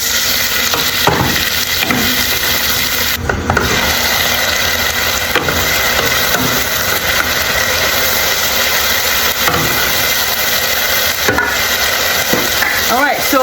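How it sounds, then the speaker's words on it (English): Leeks and garlic sweat in a soup pot, giving a steady close sizzle with occasional stirring scrapes and a constant background hum, without talking. "we're going to sweat our leeks and our garlic"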